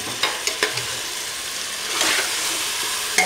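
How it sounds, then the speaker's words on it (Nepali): Masala with tomato paste fries in a pan for chicken biryani, giving a steady close sizzle broken by a few sharp stirring clicks near the start. "5 मिनेट जति भुट्ने"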